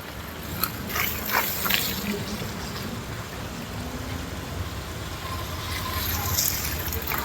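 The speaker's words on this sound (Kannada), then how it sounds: "ನೋಡಿ ಎಷ್ಟು ಹೋಗ್ತಾ ಇದೆ ಕಾವೇರಿ ನೀರು." Water of the Kaveri river flows along in a steady rushing wash, with a few brief splashes near the start, heard up close outdoors.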